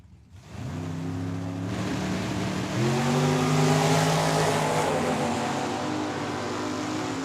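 A Fox body Mustang and a dragster launch side by side in an eighth-mile drag race, loud engines roaring and rising in pitch as they pull away, staying strong and steady through the run with no talk.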